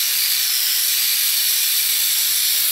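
Continuous bright hiss of steam jetting from a handheld steamer, loud and close, steady for the whole stretch with no voices.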